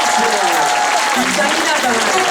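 A concert audience at a hospital charity music event applauds to welcome a Taiwanese singer onto the stage, dense loud clapping throughout, with voices mixed into the crowd noise.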